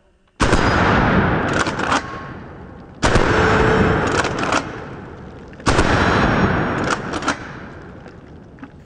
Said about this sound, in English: there's nothing like shooting a 12 gauge shotgun